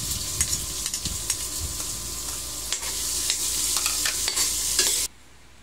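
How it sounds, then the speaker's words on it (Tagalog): Ginger and onion sauté in a pan for chicken arroz caldo, a close, steady sizzle with frequent stirring scrapes that stops abruptly near the end. "Unahin po natin ang luya. Gisa lang po natin ng maigi"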